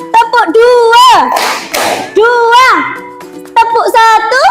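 Schoolchildren play a counting clap game in a classroom, bursts of group clapping alternating with loud chanted calls from a teacher and kids, close and lively.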